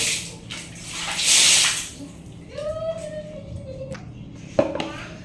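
Water running in a bathroom at night before a shower, with a brief gushing burst followed by splashes, drips and a squeaky tap sound, close and fairly loud.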